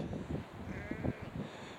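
Sheep bleat in a winter field in Nidderdale in the Yorkshire Dales, near Scarhouse Reservoir. Several wavering bleats follow one another, soft and somewhat distant over steady outdoor noise.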